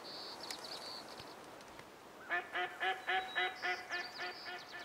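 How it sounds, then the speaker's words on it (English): Ross's geese in the hunting game Way of the Hunter give a rapid series of nasal, honking calls in the second half, about eight short repeated notes, with a thinner high call earlier over quiet outdoor ambience. "Rosses geese. Rosses geese."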